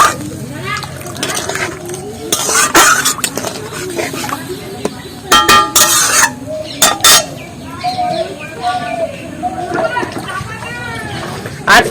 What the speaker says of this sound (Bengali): এবার দিয়ে দেবে এই বাটির 1 বাটি জল।